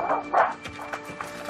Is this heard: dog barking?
yes